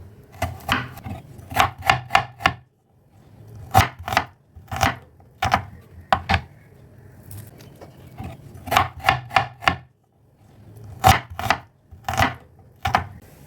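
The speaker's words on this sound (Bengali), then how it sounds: "এই পেঁয়াজটা কেটে রান্নাটা চাপাবো এবার" An onion being chopped with a knife in a home kitchen, crisp close blade strikes on a board in quick bursts of three to five separated by short pauses.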